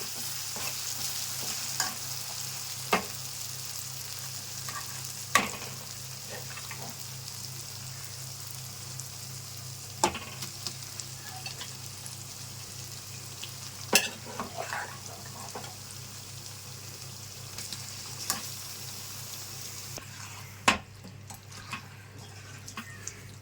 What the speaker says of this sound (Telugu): అల్లం వెల్లుల్లిపాయ పేస్ట్ వేసిన తర్వాత కలుపుకొని ఇందులో చికెన్ వేసేసుకుందామండి